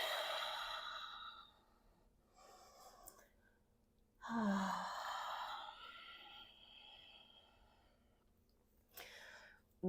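A deep exhaling breath during a vinyasa yoga flow, breathy airy sighs at close range, one long exhale early, a stronger one mid-way, with quieter breaths between.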